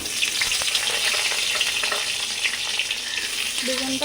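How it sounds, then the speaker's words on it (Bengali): Eggplant fries in oil in a wok with a dense, continuous sizzle and crackle, close and fairly loud throughout, broken by light stirring taps. "এবার আমি কড়াই দেবো বেগুনটা"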